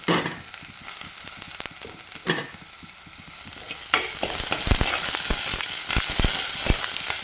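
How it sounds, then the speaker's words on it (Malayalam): Bird's eye chilies, a piece of ginger and curry leaves sputter in a hot pan for a fish curry, with a steady sizzle that grows louder and sharper pops and crackles partway through. "ഇനി നമുക്കതിലേക്ക് നമ്മൾ കാന്താരി മുളകാണ് പിന്നെ ഇഞ്ചി ഒരു കഷ്ണം കറിവേപ്പില അത് നമ്മൾ ഇതിലേക്ക് ഇട്ട് കൊടുത്തു"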